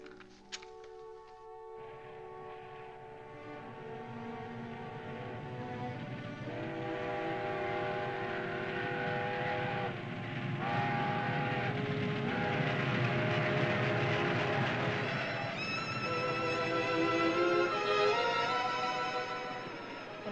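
Trains pass in a 1950s railroad-town setting: a long horn blast opens over a heavy rumble, then rolling rail-car noise builds and swells with further whistle tones, steady and fairly distant, without speech.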